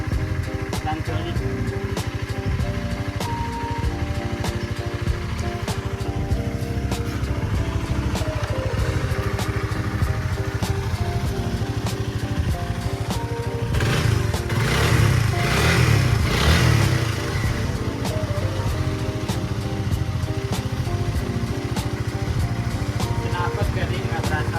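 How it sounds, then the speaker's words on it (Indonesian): A Honda Supra GTR 150 motorcycle engine idles in neutral after a fresh oil change, a steady low hum that runs through the whole stretch while voices briefly talk over it near the middle. "Halus mesinnya beda sama sebelum ganti oli."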